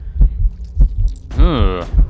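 Regular low heartbeat thumps from a unit in the video game Mindustry throb steadily, while a voice briefly speaks over the pulses midway.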